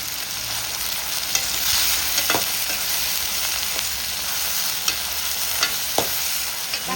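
Onions frying with salt in a pan give a steady, close sizzle, with the scrape of a spatula stirring them breaking through now and then. No one speaks over it.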